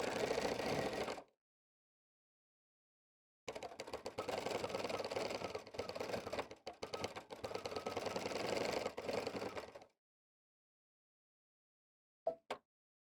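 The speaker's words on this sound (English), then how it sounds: "I'm going to press my foot control. And the needle's going to continue to move when I stop." A sewing machine runs in continuous mode from its foot control, giving a short burst of rapid, steady needle whirring, a pause, then a longer run of about six seconds and a faint brief clatter at the end, with no talking.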